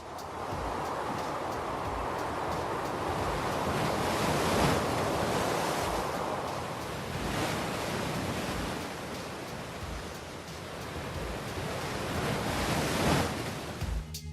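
Giant winter waves crash continuously on an ocean coast such as Oahu's north shore, a heavy, roaring wash of surf with surges and wind noise over the whole stretch, loud and steady with no voices.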